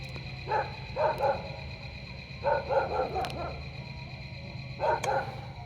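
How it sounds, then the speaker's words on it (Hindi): Dogs bark outdoors in repeated clusters of sharp yaps and bow-wows, three bursts spaced a couple of seconds apart over a steady background hum, moderately close and without talk. "कुत्ते भौंक रहे हैं जी, कुत्ते भौंक रहे हैं।"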